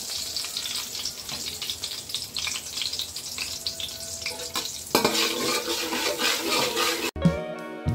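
Butter melts and sizzles in a pan after cashews were fried, the start of Chinese-style egg fried rice, with a steady close crackle that grows louder and busier partway through, then cuts off abruptly near the end.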